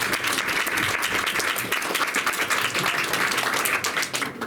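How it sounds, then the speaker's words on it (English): An audience at a London conversation event applauds a guest from Beirut with steady, dense clapping that holds at full strength for several seconds before easing slightly at the end. "I want a warm London to give the man from Beirut a big round of applause"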